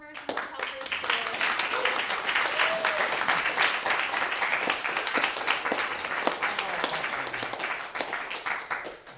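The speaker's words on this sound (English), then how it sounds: "And just another round of applause for all the performers and the helpers today." A small audience at a puppet slam show claps enthusiastically for the performers, sharp individual claps forming sustained applause with some voices and whoops underneath for about nine seconds.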